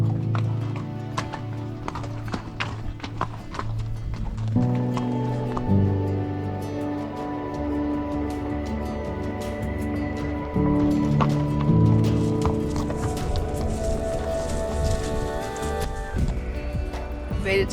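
Pack horses walk on a high mountain trail in Nevada's Ruby Mountains, hooves clip-clopping in an uneven steady rhythm, near and clear, with occasional rustling and faint voices.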